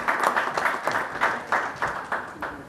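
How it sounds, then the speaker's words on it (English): Sparse, rhythmic clapping from a small audience at a galvanizing industry conference, with distinct claps at a steady pace, moderately loud and without talk. "A big round of applause for Mr."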